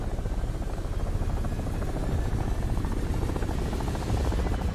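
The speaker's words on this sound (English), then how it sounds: "All right, I gotta get around this helicopter." A helicopter in the video game Call of Duty Modern Warfare 3 throbs with a loud, continuous rotor chop and engine drone, close and steady throughout, with no speech.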